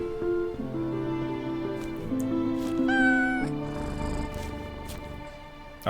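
A cat meows in the horror game We Harvest Shadows, several drawn-out, wavering meows close and clear over a faint background.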